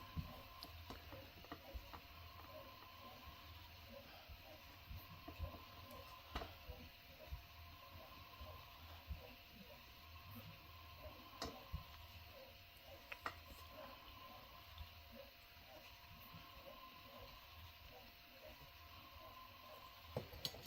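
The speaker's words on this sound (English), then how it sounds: "I've got a printer on behind me. If you hear any weird noises, that's what that is." A printer runs quietly in a room, giving a soft, steady mechanical whir broken by faint ratcheting clicks and ticks that repeat over about twenty seconds, with no one speaking.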